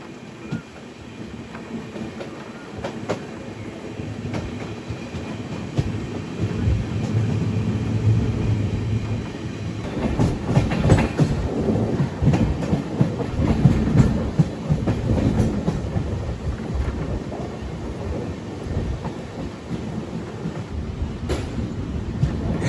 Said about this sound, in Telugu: ఇప్పుడు వెళ్ళిన బండి ఏంటంటే ట్యూటికోన్ నుంచి పాలకాడ్ వెళ్ళే బండి, పాలరువి ఎక్స్ప్రెస్